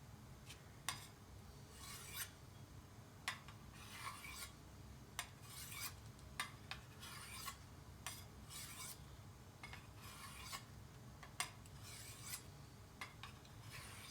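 A dull knife, unsharpened for about six months, is sharpened by hand, the blade held in the hand while a stone rasps along it in a series of irregular strokes, each a short gritty scrape with pauses between, close and fairly quiet.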